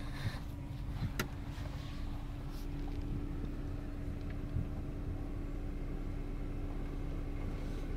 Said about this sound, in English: It has one idle problem. Now it's running at very low RPM.